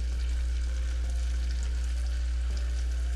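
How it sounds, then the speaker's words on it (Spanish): Onion and garlic paste frying in a pan for Ecuadorian basil green rice, giving a steady, even sizzle that holds throughout over a low hum, with no talking. "Entonces, ahí vamos a dejar que se sofría bien."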